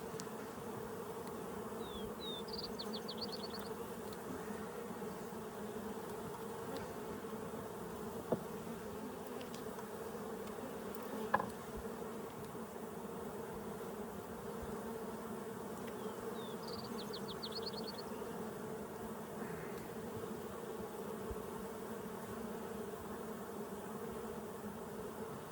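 Honeybees drone steadily around an open hive of fresh frames where comb is being drawn, a continuous low hum lasting throughout with a couple of faint clicks, no voices.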